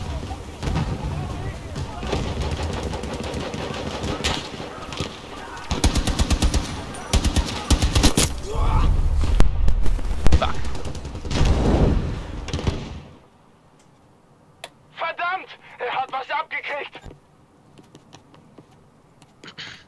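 An StG assault rifle in Battlefield 2042 fires dense, rapid bursts of loud gunfire over about thirteen seconds, mixed with other battle noise. Quieter clicks and short sounds follow after the shooting stops.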